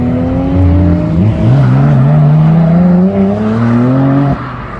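A boosted Mini pulls away from a car show, its engine note climbing steadily through the gears, loud and close, with a clear harmonic whine before it cuts off sharply near the end.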